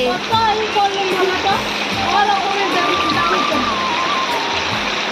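Rainwater gushing out through a drain pipe into a flooded courtyard, a loud continuous splashing flow heard close, with people talking over it.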